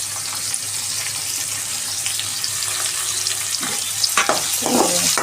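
Onions fry in a pan with moringa leaves for a munagaku fry, giving a steady close hiss of sizzling oil, with some stirring clinks toward the end.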